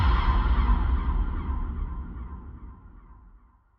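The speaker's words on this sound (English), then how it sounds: "these squawking seagulls were in her head" Seagulls squawk as a sound effect: a dense, harsh burst of bird calls that starts loud and steadily fades away to nothing.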